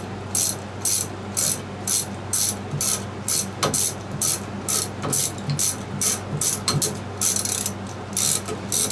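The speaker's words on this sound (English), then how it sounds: "we're going to take our 1/2 inch socket and remove this bolt right here" A 1/2 inch socket ratchet works loose a bike crank arm bolt, its pawl clicking in quick, steady bursts of close, loud ratcheting strokes with brief pauses between.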